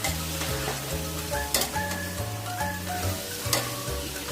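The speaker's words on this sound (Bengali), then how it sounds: "এখন আমি দিয়ে দেব লাউ শাকের ডাঁটা ও আলুটা দিয়ে আমি ভালো করে কষিয়ে নিচ্ছি নেড়ে চেড়ে।" Bottle gourd stems and potato being stir-fried in a pan, with a steady sizzle and repeated scraping strokes of a spatula at close range, no voices.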